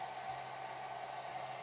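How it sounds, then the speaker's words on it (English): A hair dryer runs steadily, a soft continuous whooshing hum with a faint whine, unchanging and fairly quiet throughout. "Something I can just plant my hairdryer in"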